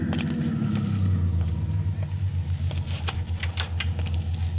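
Car rumbling and idling as it pulls up in a 1949 radio drama, a steady low engine drone close by with light clicks and patter over it, no speech.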